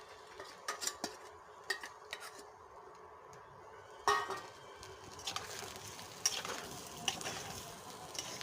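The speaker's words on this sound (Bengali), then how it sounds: "এই আলুটাকে ভালো করে কষিয়ে নিতে হবে" Potatoes with salt and leftover fish-frying oil are stirred in a wok, the spoon scraping and clinking against the metal in sparse knocks over a faint sizzle, with louder strikes now and then and no talking.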